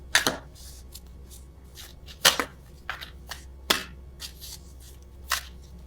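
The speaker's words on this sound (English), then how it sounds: "I am awful at attempting to shuffle these." Several crisp, brief riffling bursts of tarot cards being shuffled, separated by pauses, close and fairly quiet with a low steady hum underneath.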